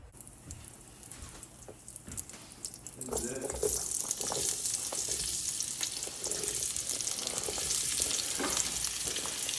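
Diced potatoes and peppers dropped into a hot pan, the sizzle jumping up partway through and then settling into a steady, close crackling fry.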